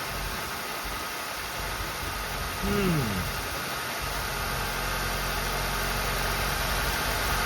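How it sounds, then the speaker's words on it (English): Honda Civic engine idling steadily in the background with a constant hiss, a low even hum under a brief pitched whine, no spoken words. "Obviously the engine's running."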